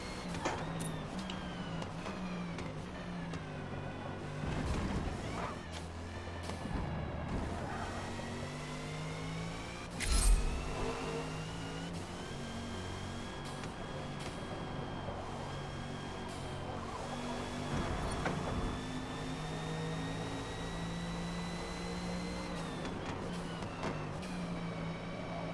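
A 2021 Audi RS 6 Avant engine in Forza Motorsport at Road Atlanta drones steadily as revs rise and fall through gear changes, with a sharp mechanical knock midway, faint and continuous.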